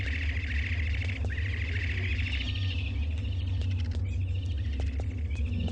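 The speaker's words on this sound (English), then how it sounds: "I still hear chirping. This distresses me." Small birds chirp in the video game Eternal Darkness, repeated rising tweets over a steady low rumbling ambience, moderately loud and continuous.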